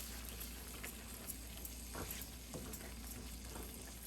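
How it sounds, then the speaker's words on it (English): Dal mixed with spinach (palak) sizzles softly in a pan on medium heat while a spoon stirs it, giving faint scraping and bubbling with a few small knocks, quiet and close, with no talking. "give it a quick stir. So we'll mix the dal with the palak."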